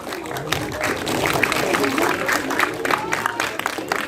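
Audience applause for the creative team of the film Dua Nafas at a screening event: steady, dense clapping from a crowd that fills the room evenly, with faint voices mixed in.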